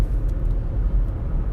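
Steady low rumble inside a moving car, close and constant road and engine noise with no talking.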